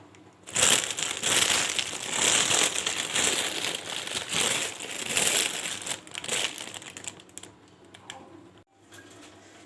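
Plastic bags being unwrapped from salted fish (fesikh), loud close crinkling and rustling of several layers of plastic pulled apart in bursts for several seconds, then dying away into quiet near the end.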